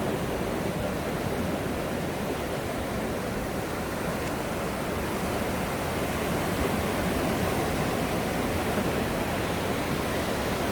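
Ocean surf on the Gulf beach of Bolivar Peninsula, Texas, a continuous broad roar of breaking waves, loud and close, with no voices.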